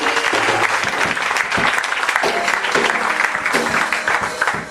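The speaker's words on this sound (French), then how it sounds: "Est-ce qu'on peut acclamer pour Seigneur Jésus?" A church congregation applauds loudly and steadily for several seconds, a dense crowd of clapping hands filling the room with little variation and no clear voices above it.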